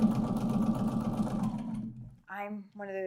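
A sewing machine chain piecing quilt blocks runs in a fast, even rattling whir for about two seconds and then stops. A person starts talking just after it.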